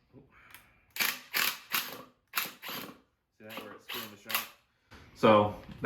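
An impact wrench hammering on the top hat nut of a new coilover on a 6th Gen Camaro, about six to eight sharp rattling bursts in quick succession, loud and close, with a voice near the end.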